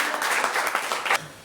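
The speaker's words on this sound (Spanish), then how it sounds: "dale un aplauso al Señor" Brief burst of congregation applause in a church service, many hands clapping together before fading out.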